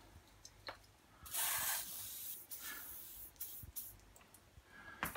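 CRC-56 lubricant sprays from an aerosol can onto the swivel front wheels of a Babyzen Yoyo stroller in several short, close hissing bursts separated by pauses.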